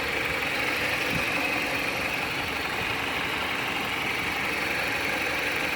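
The 2.4 L engine of a 2014 Jeep Patriot 2WD Latitude idles steadily after head gasket and oil pump balance shaft work, a constant close mechanical rumble with a faint rapid ticking texture and no talk over it.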